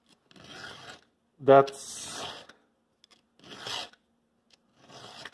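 A hand file rasps against a chainsaw chain tooth in four separate close strokes, each a short, harsh scraping burst followed by a brief silence, with a short spoken word between strokes.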